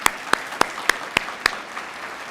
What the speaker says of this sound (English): That's a round of applause right there.